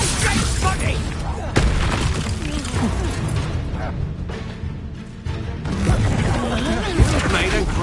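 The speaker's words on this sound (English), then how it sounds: "Made a great Incendio." An Incendio fire spell goes off in Hogwarts Legacy combat: several sharp booming bursts with clattering, shattering effects, layered over busy battle noise and a voice speaking.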